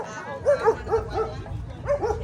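Small dogs near a crowd give several short, light yips and barks in an uneven rhythm, close by, with faint crowd noise and talk underneath.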